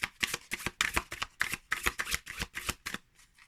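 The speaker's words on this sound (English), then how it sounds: "Oh, it's a dream to shuffle." Rapid riffle-shuffling of Monsoon Tarot cards, a burst of crisp flutters repeating in quick rhythmic bursts, close and clear with no talking.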